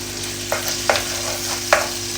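Garlic sizzles steadily in a hot pan beside a low, constant hum, and three or four distinct stirring scrapes cut through at intervals, with no one talking.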